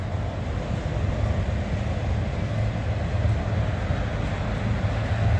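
A Canadian National freight train passes with a continuous low rumble and broad roar at steady loudness, heard alone without talk.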